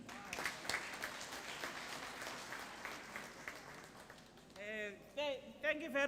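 Applause from an audience at the opening of a development centre after a speech, a steady wash of clapping for several seconds that fades before voices take over near the end.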